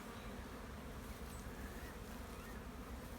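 Honeybee foragers buzz steadily beside outdoor hives, a dense, continuous hum of many bees close by, with no talking.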